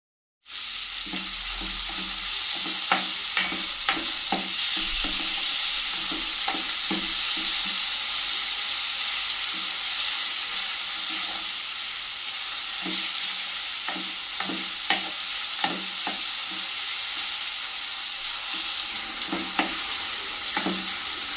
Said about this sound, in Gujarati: મસાલા સંતળાઈ જાય એટલે તેમાં ઝીણી સમારેલી ડુંગળી નાખીશું અને ડુંગળીને પણ